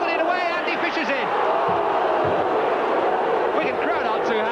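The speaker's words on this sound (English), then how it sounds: "Wigan crowd aren't too happy" A Wigan rugby league crowd murmurs and shouts in a steady, dense roar after a Featherstone try, with scattered louder calls rising from the mass of voices, under a commentator's talk.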